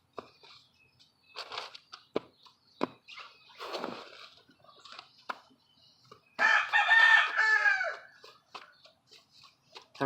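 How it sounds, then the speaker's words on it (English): A rooster crows nearby, a loud, drawn-out call standing out clearly, with scattered clucks, rustles and small knocks before and after in an otherwise quiet room. "The rooster concurs."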